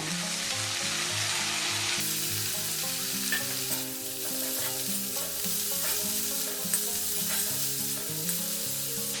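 Beans and peas frying in a pan for Bengali vegetable chops, giving a continuous close sizzle and crackle with stirring clatter throughout, and a tonal hum running underneath.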